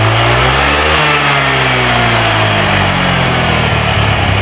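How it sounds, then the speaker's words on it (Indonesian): Honda Vario scooter engine revving with a fault, the pitch climbing and dipping as the throttle stutters and hesitates, loud and close with no talk. "ternyata motornya nyendat-nyendat ya, nyendat-nyendat lagi ya"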